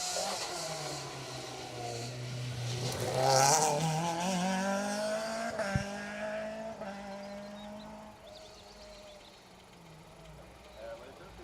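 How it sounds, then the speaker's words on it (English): A rally car on an asphalt stage of the Manx National Rally, its gearbox clattering, drones and revs steadily at close range while commentators talk over it throughout. "of clattering going on under that car, Mark. I think gearbox"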